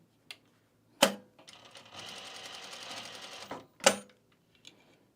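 A sewing machine stitches a travel bag: a sharp click, then a steady mechanical whir for about a second and a half, followed by another clunk and a few faint taps.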